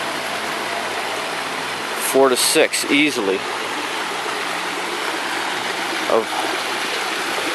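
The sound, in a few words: water flowing over a beaver dam waterfall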